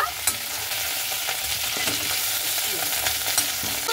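Cauliflower pieces fry in oil in a wok, a steady, close hiss of sizzling with scattered crackles and stirring scrapes, and no talk over it.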